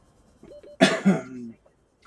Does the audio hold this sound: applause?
no